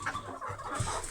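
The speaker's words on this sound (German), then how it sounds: "Chaos im Hühnerstall, aber das ist normal." Chickens and a rooster cluck and squawk restlessly in a henhouse in the evening, a busy overlapping jumble of short calls at moderate distance.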